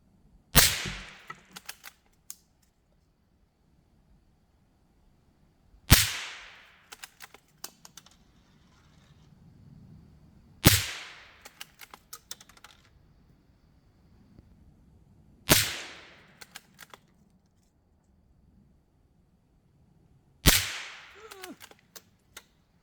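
.22 LR rifle fire from a Ruger SR-22 semi-auto or Marlin Glenfield 25 bolt-action: five sharp, loud single cracks spaced about five seconds apart, each with a short decaying ring and light mechanical clicks between.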